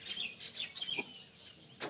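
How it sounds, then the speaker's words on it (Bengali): Domestic pigeons kept at a home loft give a run of high, squeaky chirping calls, several short bursts close together, a quiet gap, then one more call near the end; no talking. "কবুতর"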